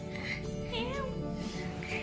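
A cat meows indoors at home, its wavering mewing call rising and falling close by for about two seconds over a steady low background hum.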